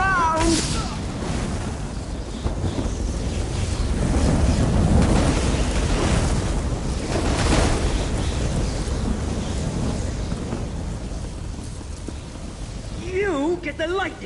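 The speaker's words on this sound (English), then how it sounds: "Have some lightning! You want more lightning?" A lightning spell crackling and rumbling in an Elder Scrolls game, a sustained loud roar of electric noise with someone shouting over it.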